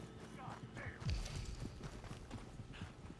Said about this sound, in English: Eu vou pegar o cavalo desse cara aqui.